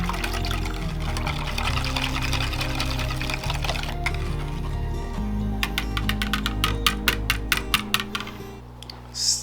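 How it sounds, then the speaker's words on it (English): Whisk strokes churn a goat milk soap mixture in a bowl, a steady wet swishing over a low hum that gives way to a run of quick, sharp clicks near the end. "Whisk this around a bit."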